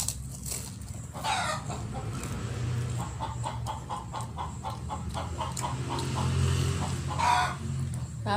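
Hen clucking repeatedly while searching for a place to lay eggs, a close series of rhythmic clucks and rising calls with faint background noise.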